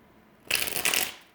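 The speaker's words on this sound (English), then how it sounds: "These need a shuffle." A short, close riffle of a tarot card deck being shuffled, a papery burst lasting under a second with two quick flurries.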